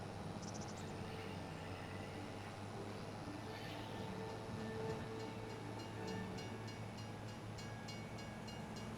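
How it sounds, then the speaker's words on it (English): Train passing in the Farm Sim 25 video game, a faint steady rumble of rolling rail cars with a low hum running throughout and a light rhythmic clicking higher up. "Oh, finally saw the train."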